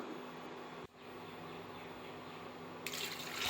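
Water poured into a pressure cooker holding soaked peas and halved potatoes for a vegetable kurma, a steady close hiss of running liquid that briefly cuts out, then resumes and grows slightly fuller.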